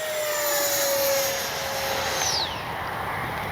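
A Freewing 90mm F-4 Phantom II RC jet flies past with a loud, steady turbine whine. The pitch slides audibly as it passes, then settles into a thinner high tone.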